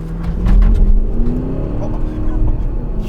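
An Audi Q7 4.2 TDI V8 diesel with a custom remap revs up hard in manual mode, heard from inside the cabin, a loud low drone climbing in pitch, with people talking over it.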